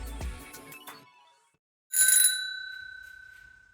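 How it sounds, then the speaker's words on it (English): Polished bell on a restored rusty 1990s Repco mountain bike gives a single bright ring, clear and close, that sustains and slowly fades after some brief handling clatter. "And it's just a good sounding bell."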